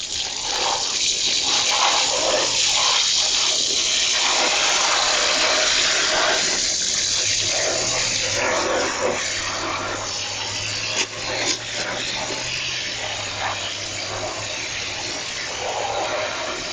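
A garden hose runs at full blast, a strong, steady gush of water that roars broadband for the whole stretch, with no talking.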